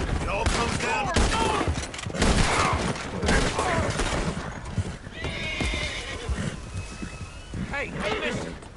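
A horse in the video game Red Dead Redemption 2 whinnies loudly and its hooves clop, with shouting voices and bursts of gunfire mixed in, busy and close throughout.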